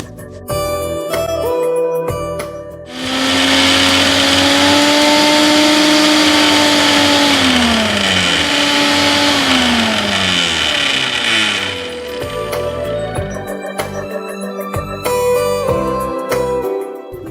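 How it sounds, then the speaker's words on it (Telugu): Mixie grinder blending grated fresh coconut with sugar for bitter gourd pachadi, a loud whirring motor roar that starts abruptly, pitch sliding as it runs for about nine seconds, then cuts off to quieter kitchen sounds. "దీన్ని ఫస్ట్ మనం ఒకసారి మిక్సీ పట్టేసుకుందాం."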